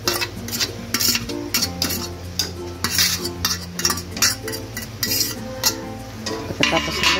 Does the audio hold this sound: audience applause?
no